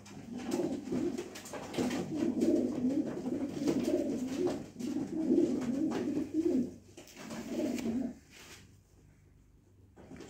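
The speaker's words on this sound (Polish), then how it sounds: "piękny gołąb." Close racing pigeons give soft, repeated throaty coos in bursts, with brief pauses between phrases, then fade toward the end.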